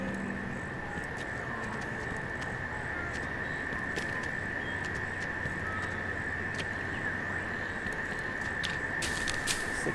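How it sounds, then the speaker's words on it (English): A cicada in the wetlands of the video game Paperbark buzzes as a steady, continuous drone at moderate loudness, over a constant ambient background, with no voices. "Cicada's there too."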